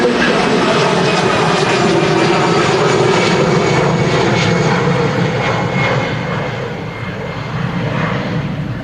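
An easyJet Airbus A319-100 takes off at Manchester Airport, its jet engines a loud, steady roar that eases slightly in the last few seconds, heard alone without speech.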